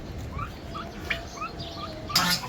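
Turkeys at a poultry farm with ducks and chickens, giving short gobbling and chirping calls a few times at moderate distance over a faint outdoor background, ending with a brief louder rustle.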